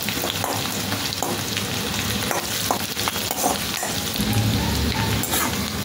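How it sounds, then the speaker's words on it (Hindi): Ginger, garlic, curry leaves and mustard seeds fry in oil in a pan for cabbage sabzi, giving a steady, dense sizzle with occasional stirring scrapes and no talking. "अदरक लहसुन और राई मैंने भून चुकी हूँ।"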